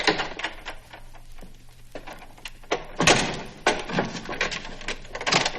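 A series of heavy thuds, knocks and a door closing ring out in a scene from the comedy film Young Frankenstein. The sharp impacts are scattered over several seconds above a faint background.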